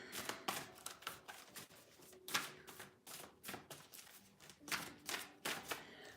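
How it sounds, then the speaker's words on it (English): Tarot cards shuffled by hand up close, a steady run of crisp riffling and slapping bursts in an uneven rhythm with no talking. "let me shuffle one more time"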